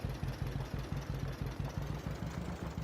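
Pulsing, evenly spaced low thumps from the small one- or two-cylinder engine of a John Deere Model A tractor mod in a farming video game, idling loud and close with no talk.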